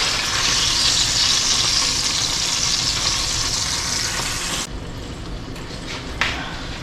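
Snook fillets frying in a pan, a loud bright sizzle filling the first several seconds, then dropping abruptly to a softer crackle with a couple of small clinks.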